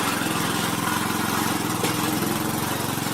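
Hahn Eclipse 22 inch self-propelled lawn mower running, its engine droning loud and steady at close range without any pause or voices.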